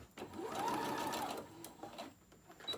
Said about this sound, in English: And then you're going to sew across the whole bottom there.